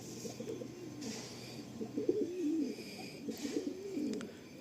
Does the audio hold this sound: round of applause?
no